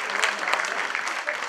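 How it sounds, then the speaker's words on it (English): Audience at a small business awards ceremony gives a round of applause for a nominated service, a brief burst of many hands clapping, moderately loud, with a voice faintly mixed in. "Can we please give another round of applause to this very important service?"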